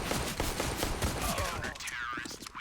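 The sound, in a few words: gunshot headshot in Counter-Strike video game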